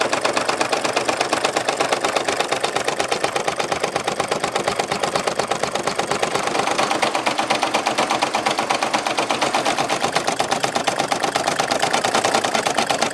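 An in-the-hoop embroidery machine sews a satin stitch on a reusable face mask, a fast, even mechanical chatter running steadily and fairly loud throughout, with no voices.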